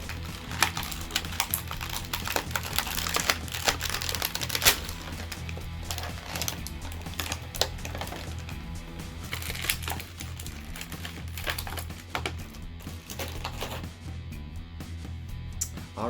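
Plastic and cardboard packaging rustle and crinkle continuously, close and busy, as a Marvel Legends Nightcrawler figure from 2019 is pulled out of its package.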